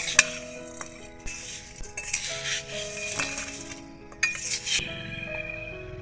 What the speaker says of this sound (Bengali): এটাকে ভালোভাবে নাড়াচাড়া করে নিতে হবে যাতে প্রত্যেকটা মোড়ালির গায়ে মিষ্টিটা ঠিকঠাক মতো লাগে